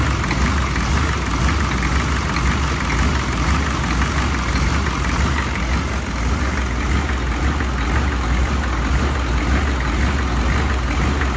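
A diesel truck engine with a faulty fuel injection pump idles with a steady, loud, rumbling lope, droning continuously up close with no voices over it.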